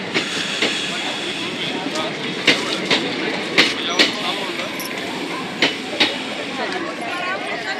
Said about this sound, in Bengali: আমাদের ট্রেন এসে পৌঁছালো এখন অযোধ্যাধাম জংশন